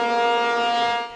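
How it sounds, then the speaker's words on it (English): A loud, steady tornado siren wails outside during a statewide tornado drill, with a sustained tone that trails off slightly at the end. "As tornado sirens sounded outside"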